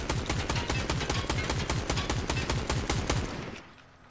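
Rapid automatic gunfire in a shooter video game, with loud, evenly spaced shots in a long continuous burst that cuts off near the end.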